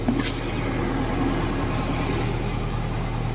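An Isuzu FRR190 truck diesel engine held at a steady raised speed by a Dinobox electric throttle box, a continuous low drone with an even hum and no speech.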